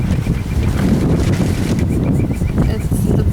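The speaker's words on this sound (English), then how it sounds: "And the noise that you're hearing, there's some things drying out here on the lines." Steady breezy rush with soft, irregular flapping and fluttering of light fabric drying on an outdoor clothesline, fairly close, continuing throughout without pause.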